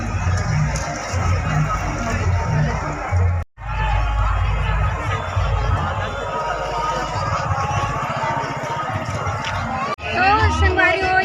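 Dense crowd noise at a Durga idol immersion in Kawardha, Chhattisgarh: loud, continuous hubbub of many voices with shouting and a brief drop in the middle, a person speaking close over it.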